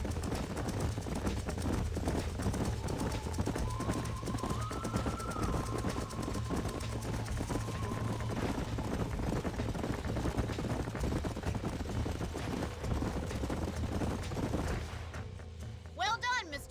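Horses trotting with steady clip-clop hoofbeats in the Red Dead Redemption video game, rhythmic and fairly close over ambient background, easing off near the end.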